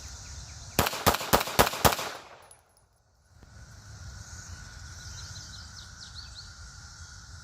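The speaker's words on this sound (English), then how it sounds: "Makarov, first shot." Bulgarian Arsenal Makarov pistol fired outdoors in about five quick, sharp, loud shots over roughly a second, followed by a brief muffled drop-out and then quiet ambient outdoor background with faint birdsong.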